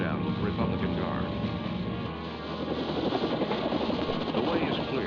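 Military helicopters in flight during the 1991 Gulf War ground offensive, a steady loud rotor and engine drone that fills the whole stretch, with a narrator's voice running over it.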